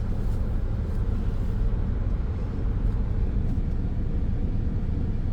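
A 2010 Chevy Equinox is being driven on a test drive and was reported to have wheel bearing noise. A steady, dense low road-and-engine rumble fills the cabin throughout, with no talking.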